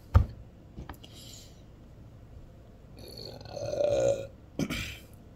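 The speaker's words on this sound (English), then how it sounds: "That was a girl burp." A single loud burp, fairly short and low, stands out in a quiet room with a few scattered knocks and small noises around it.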